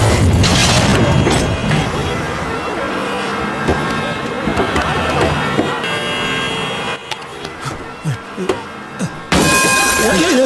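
A lorry crashes in a dramatic film scene, with a loud opening impact and shattering debris followed by rumbling, clattering wreckage and scattered bangs, then another loud burst at the end.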